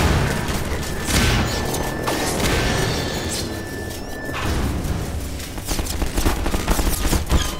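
Gunfire in the Half-Life 2 video game, rapid bursts of shots and loud booming impacts with mechanical clatter, close and sustained across the stretch with a brief lull midway.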